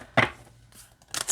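Thick playing-card deck, an M.J. Cullinane deck, shuffled sideways: a short riffling burst of card flutter, a quiet pause, then a second crisp rustling burst at the end, close and fairly soft.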